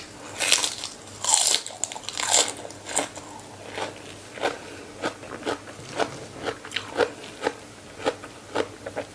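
Eating papaya salad with clams and fresh stink beans, with close loud crunchy bites at first followed by a steady rhythm of wet chewing, no talk.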